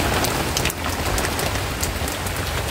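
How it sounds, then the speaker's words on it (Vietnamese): Steady rain falls in a dense, even hiss with scattered drops striking surfaces, constant and fairly loud throughout, with no talk. "Ăn là mưa tới luôn."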